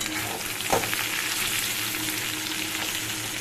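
Cut potato and papaya fry in a pan, giving a steady close sizzle with a brief clatter of stirring.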